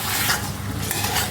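Egg and potato masala with ginger-garlic paste frying in a pan, a brief close sizzle with the scrape of a spoon stirring through it.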